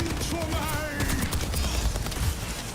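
Soldier's rifle in Overwatch 2 fires rapid, steady automatic bursts at close range on the Rialto map, mixed with game effects while a voice talks over the shooting.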